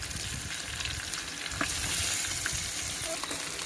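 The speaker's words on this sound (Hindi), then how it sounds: "अब इसको हम फ्राई कर लेंगे" Meat frying in a pan for Arabian mandi, a loud continuous crackling sizzle with occasional sharp pops and light stirring scrapes, close and steady throughout.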